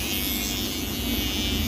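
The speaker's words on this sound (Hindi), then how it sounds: "ये जो हेयर है एक्स्ट्रा इसको भी ट्रिमर से ट्रिम कर दो।" An electric hair trimmer buzzes steadily and close while trimming extra hair during a simple haircut, a constant unbroken hum with no speech.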